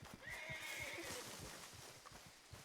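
A horse in the Red Dead Redemption 2 video game gives one rising, drawn-out whinny over steady clip-clopping hooves, fairly faint, with no voices.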